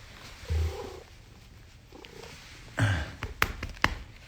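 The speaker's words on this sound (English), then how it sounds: "Cat Stevens, my cat, a genius" A pet cat purrs softly in a quiet room, the low purr surfacing in brief spells, followed by a few sharp taps and thumps nearby.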